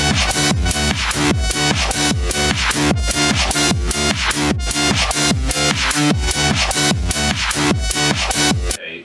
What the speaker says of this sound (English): I've laid down the sort of initial demo loop, which sounds like this.